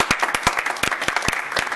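Applause at a township board meeting, a scattering of sharp separate claps from a small group in a room, fairly close and moderately loud.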